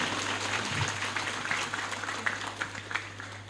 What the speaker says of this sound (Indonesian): kita beri tepuk tangan dulu untuk semuanya ya